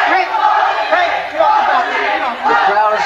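A boxing arena crowd at the Mike Tyson vs Jose Ribalta fight takes up a loud, rhythmic chant of "Jose", with massed voices rising and falling in repeated waves.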